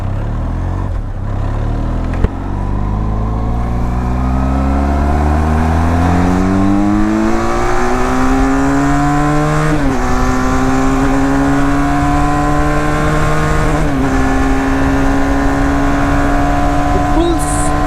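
A Benelli TRK 502X motorcycle engine revs up through several gears while riding, its pitch climbing and dropping at each shift, loud and continuous with wind rush.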